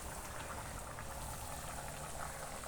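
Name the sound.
water boiling in a pot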